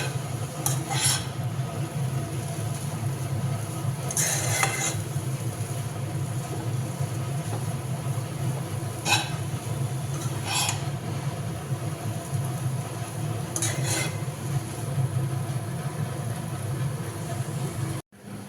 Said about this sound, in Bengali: আর এখানে আলু ভাজা হচ্ছে